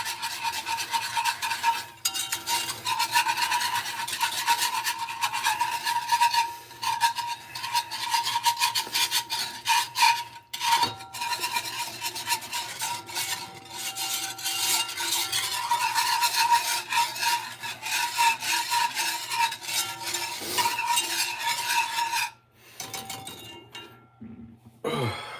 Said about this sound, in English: Start whisking it.